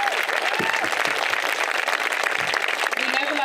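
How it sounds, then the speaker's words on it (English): An audience claps in sustained applause at a Ballymote ladies' match presentation, thanking the Shamrock Gaels side, a dense, even patter throughout with a few voices mixed in. "I'd like to give a round of applause to Shamrock Gales."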